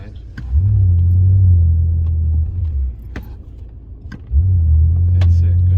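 A BMW F10 M5's engine runs in sport mode with a deep, loud rumble that rises and dips across two long stretches, with faint voices nearby.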